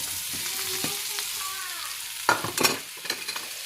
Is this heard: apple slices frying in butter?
yes